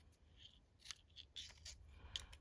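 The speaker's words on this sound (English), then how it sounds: "I like to snip the corners when they're shaped like this." Scissors snip the corners of vellum pieces in a series of crisp, close, quiet cuts, several in a row against near silence.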